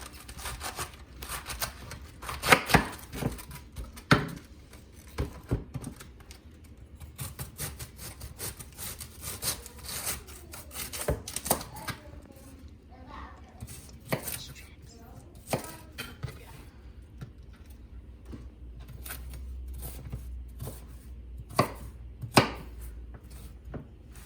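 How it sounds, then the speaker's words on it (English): A knife cuts through a cabbage on a cutting board, trimming off the butt and slicing it down the middle, with irregular thuds and scraping cuts over about twenty seconds and some quiet talk in the background. "cut off the butt of the cabbage and then slice it right down the middle. This will make it easier to cut shreds"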